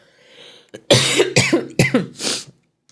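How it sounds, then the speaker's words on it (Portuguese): Several sharp coughs from eating popcorn in quick succession, close and loud, with a short pause between bursts. "Espera que eu vou tossir por causa da pipoca"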